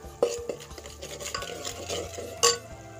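Masala for a baingan aloo mutton salan is stirred and fried in a pan, giving quiet scraping strokes of a spoon against the metal with a couple of sharper knocks, close up and without talk.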